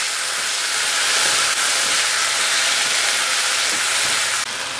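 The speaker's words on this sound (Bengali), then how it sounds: "এবার পুরোটা আমি সটে করব।" Boneless chicken coated in poppy seed paste sautés in a pan, giving a steady, fairly loud broadband sizzle and hiss that runs unbroken and dips briefly near the end, with no voices.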